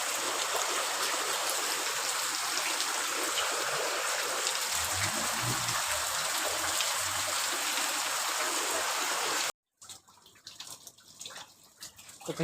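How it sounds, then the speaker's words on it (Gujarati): Heavy rain pours down in a dense, continuous roar, close and loud, broken by a short gap before a softer, uneven patter resumes. "જોરદાર વરસાદ ચાલુ થઈ ગયો છે."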